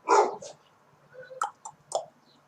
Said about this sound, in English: There's a dog barking outside my window.